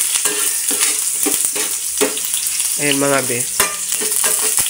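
Ginger frying in hot oil in a pan for squid adobo, stirred with repeated scraping strokes over a constant sizzle, while someone talks briefly.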